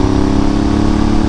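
A Honda Africa Twin DCT motorcycle engine roars loud and close in a steady, dense drone, held at high revs without pause.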